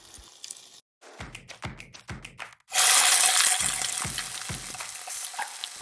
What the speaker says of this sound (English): Before we fry the noodles, I cook the bean sprout first.